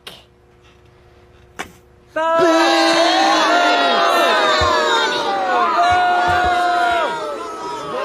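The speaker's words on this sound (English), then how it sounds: "They're booing you, son." A large crowd roars and jeers in a dense, sustained wash of voices that starts abruptly and holds loud for several seconds, with a few short sounds before it.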